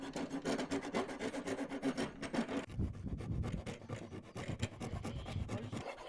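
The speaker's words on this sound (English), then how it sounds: "I'll probably use some emery cloth." Emery cloth rubbed against the inside of a carved wooden spoon, giving a steady close rasping scrape that runs in continuous strokes throughout.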